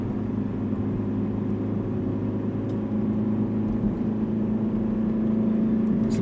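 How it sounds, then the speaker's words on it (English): A car engine strains up a hill on a road between Hexham and Carter Bar, a steady droning hum with a low whine that holds constant from inside the cabin, with no talking. "Right, come on car, get up the hill."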